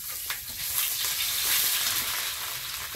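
Ginger paste fries in hot white oil with whole cumin seeds in a wok, a steady, rising sizzle with light crackling and no voices.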